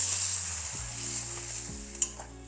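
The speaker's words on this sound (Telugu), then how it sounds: "ఇప్పుడు అన్నీ బాగా మిక్స్ చేయండి" Egg semiya mixture stirred in a hot pan: a steady, even sizzle with the soft scrape of a spatula, plus one brighter clink near the end, and no talking.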